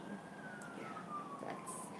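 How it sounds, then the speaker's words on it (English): A faint siren wails in the distance, its tone sliding slowly as an emergency vehicle passes, against quiet background noise. "I apologize if you can hear that siren going by"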